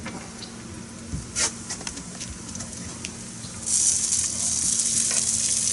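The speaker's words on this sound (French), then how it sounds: "on fait revenir un petit peu les oignons avec l'huile" Onions and jalapeños sizzle in oil on a grill, with a steady low crackle, a few sharper pops and brief clatters, then a louder, brighter hiss in the last seconds.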